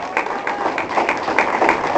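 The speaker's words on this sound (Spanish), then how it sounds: "Denle un aplauso al Señor, hermano." Church congregation applauding, a dense steady patter of many hands clapping together with some uneven rhythm, moderately loud and close, filling the room without speech.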